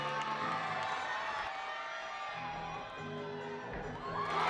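Crowd at a college gymnastics meet between Illinois and Nebraska cheering and whooping in a large arena, a steady roar of many voices that swells toward the end.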